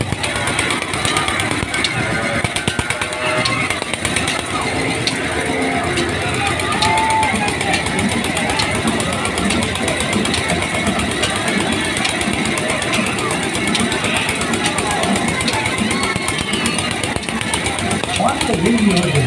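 Motorcycles and a Maruti car roaring around a well of death stunt show at an exhibition fair, a continuous loud engine drone with revving surges over a noisy crowd.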